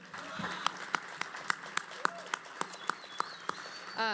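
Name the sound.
audience applause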